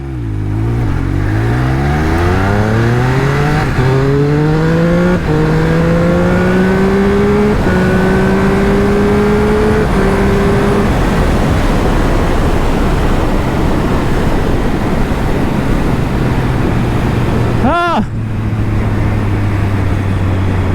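A 2022 Triumph Speed Triple 1200 RS naked superbike accelerates hard, its engine note climbing through several rising gear pulls before easing off, loud and sustained with wind noise, then a brief high sweep and steady drone.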